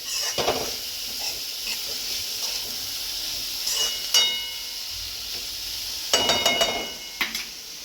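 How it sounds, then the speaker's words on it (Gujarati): Vegetables sautéing in a pan for homemade chow mein, a soft steady sizzle with intermittent clinks and scrapes of utensils against the pan. "હવે આને સાંતળી લેવાનું, પણ આને બહુ પકાઈ બી નહીં દેવાનું, અધકચરા જ રાખવાના"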